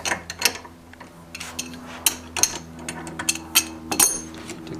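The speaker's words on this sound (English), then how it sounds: "Take the bolt out first." A Savage rifle's bolt is worked and drawn out during disassembly, giving a string of close metallic clicks and ratcheting clacks at an uneven pace over a faint steady hum.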